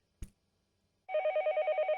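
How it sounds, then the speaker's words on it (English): An electronic telephone in the Higurashi visual novel rings in a steady pulsing trill after a short thump, loud and repeating alone without talk. "The sound of a phone ringing gets clearer and clearer the longer you go on sleeping."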